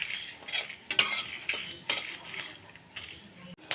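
Dry red chillies, black pepper, fennel, cumin and coriander are dry-roasted in a pan, with repeated scraping stirs and light clinks of the utensil, close and moderately loud.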